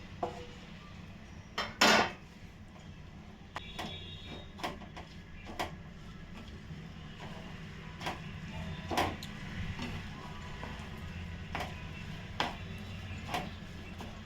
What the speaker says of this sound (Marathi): गुळ वितळेपर्यंत हे ढवळत राहायचा मिक्स करून घ्यायचा